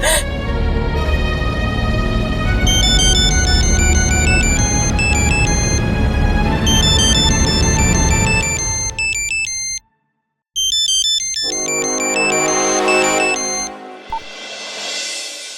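A bright electronic phone ringtone plays a repeating melody, loud and close, briefly cutting out before resuming.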